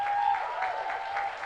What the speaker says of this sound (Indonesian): Mari beri tepuk tangan sekali lagi yang meriah buat Tuhan Yesus.